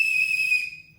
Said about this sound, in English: Also, I have a whistle,